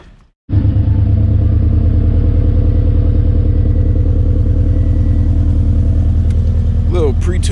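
A stock Subaru BRZ/FRS/GT86 flat-four starts up warm after a brief pause, then settles into a loud, steady, close idle with a few quick blips near the end.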